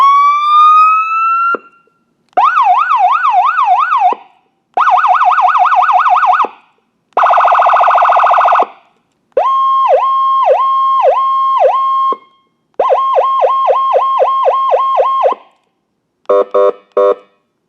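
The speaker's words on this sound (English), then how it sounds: "So basically what you have are a total of 12 different siren tones that are available" A loud sequence of electronic siren tones from a Feniex Typhoon handheld remote siren controller, each burst a different pattern: rising whoops, warbling wails, rapid yelps and pulsing beeps, separated by short silences.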